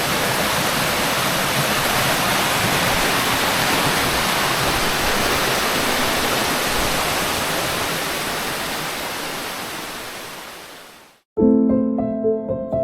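A loud, steady roar of Waghbil Waterfall near Badlapur fills most of the clip before cutting off abruptly into a short, different sound.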